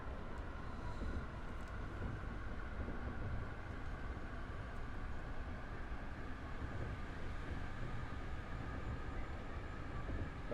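A train in the video game Train Drive ATS rolls along with a steady, dense rumble and hum, a continuous mechanical drone with no talk over it.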